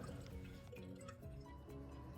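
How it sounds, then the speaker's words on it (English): A toilet bowl refills with water, a steady close trickle and splash of running water with small drips, continuous and moderately quiet. "your toilet bowl is filling."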